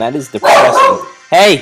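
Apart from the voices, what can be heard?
pet dog barking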